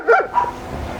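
A dog on a leash gives a couple of sharp, close barks and yips during a training session, loud and brief with a short whine-like tail.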